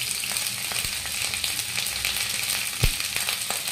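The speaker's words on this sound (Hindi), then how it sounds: "तो हम अभी इसको फ्राई कर ही रहे हैं तकरीबन जब तक ये गोल्डन कलर का, हल्का ब्राउन कलर का" Potato and cauliflower fry in a pan for Bihari-style aloo gobi, giving a steady, close hiss of sizzling oil with a few sharp pops and crackles breaking through, and no talking.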